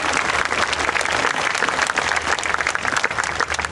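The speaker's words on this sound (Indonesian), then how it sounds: "Berikan tepuk tangan buat Tuhan" Loud, sustained applause from a large crowd at a church worship service in a sports hall, steady clapping filling the whole stretch without pause.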